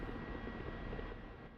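A Ka-50-style attack helicopter in the DCS World flight simulator, heard as a steady, dense rotor and turbine drone with constant broadband rumble, fairly close and unbroken, with no talk over it.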